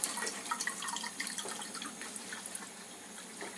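Water from an Enagic K8 Kangen water ionizer pours into a glass, a soft steady trickle with light splashing, quiet and close.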